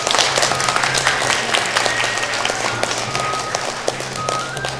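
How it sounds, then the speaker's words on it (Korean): An audience applauds at a Hanbok honorary ambassador ceremony, dense continuous clapping filling the hall with steady intensity, a low hum underneath. "다시 한번 따뜻한 박수 부탁드리겠습니다"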